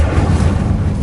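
Incendio fire spell cast in Hogwarts Legacy: a short, loud, deep rumbling roar of flame bursting out, sustained and dense for about a second with no voice over it.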